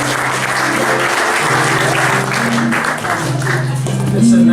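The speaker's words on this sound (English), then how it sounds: "Applause." Audience at a TAFISA EU conference breaks into sustained applause after a speaker's closing thanks, a dense steady wash of clapping from a large crowd lasting several seconds.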